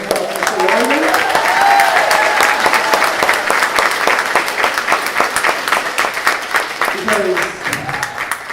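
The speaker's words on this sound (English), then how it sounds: "Can everyone give a hand round of applause for Mr. Irvington?" A school spring concert audience claps in sustained, dense applause that fills the hall, rising and then gradually thinning, with a voice speaking over parts of it.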